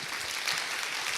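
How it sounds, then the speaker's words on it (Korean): An audience at a KOICA briefing session gives a brief burst of dense, even applause, a steady wash of many hands clapping together without talk. "우리 성기훈 전임님께 여러분 박수 한번 보내주시죠"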